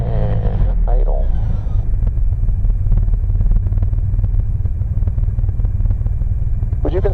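An aircraft engine idling heard from the cockpit, a loud continuous low rumble with a rough pulsing texture, and brief talk at the start and end over the engine noise.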